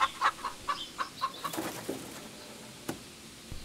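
Farm chickens give a quick series of short clucks at moderate distance, then a few scattered sounds before the clip falls quiet.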